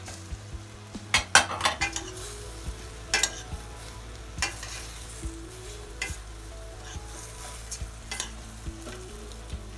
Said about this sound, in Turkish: Biraz daha karıştırmaya devam ediyoruz.